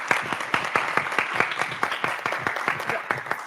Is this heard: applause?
yes